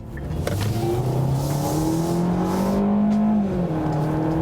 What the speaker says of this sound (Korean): 가속 페달을 끝까지 밟았을 때 소리는 어쨌든 이 차는 4기통이고